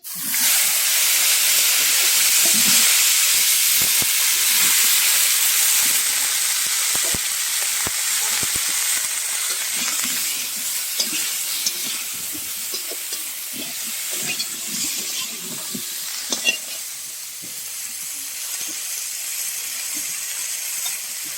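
Cabbage fries in a hot pan with a loud, continuous sizzle, broken by occasional scraping and clatter from stirring, and the hiss eases slightly over time.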